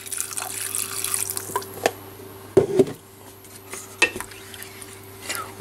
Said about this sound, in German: Jetzt gießen wir das Ganze mit Wasser auf.